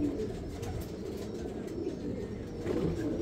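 Soft, low cooing of a Teddy pigeon murmurs steadily throughout, a continuous rumbling coo that sits fairly close with no voices over it.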